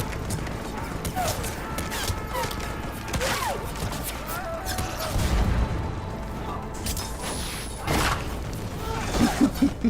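Defensive gun emplacements firing in the Mass Effect Legendary Edition game on Tuchanka, producing a dense barrage of booms and crackling shots with whooshes, alongside background game sounds and voices.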